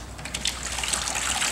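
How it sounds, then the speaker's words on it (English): Fluid ultrafine cement mix thinned with superplasticizer pouring into a pail, a steady liquid gush and trickle with a continuous splashy hiss. "By pouring it into this pail, you can see how fluid it is now."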